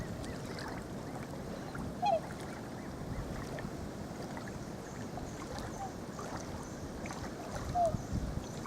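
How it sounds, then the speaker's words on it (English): A boat approaches over open water, a steady low rumble with wind buffeting the microphone and a couple of brief higher calls overhead. "Boat coming in."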